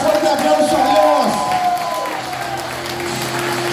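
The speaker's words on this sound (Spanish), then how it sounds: "Dale un fuerte aplauso a Dios." A church congregation applauds during a sermon, with clapping mixed with cheers and raised shouting voices. The applause is loud at first, then settles into softer, continuing clapping.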